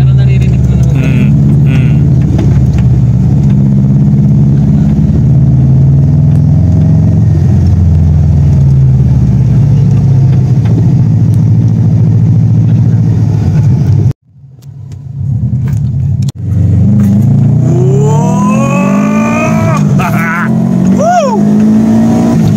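A Subaru Blobeye's engine runs loud and close at a steady, rising drone for about fourteen seconds, cuts briefly, then picks up again as voices talk over it.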